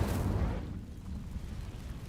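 Incendio fire spell cast in the video game Hogwarts Legacy: a loud burst of rumbling, roaring flame noise at the start that settles into a lower sustained crackle.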